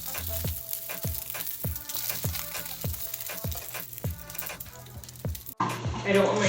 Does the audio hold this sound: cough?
no